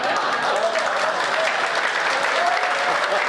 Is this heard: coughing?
no